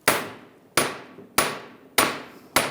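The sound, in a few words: hammer tapping axle shaft held in a vise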